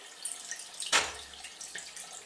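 Water runs from a bathroom tap over paintbrush bristles, soft and close, with a brief louder splash burst near the start and then a faint trickle that continues to the end.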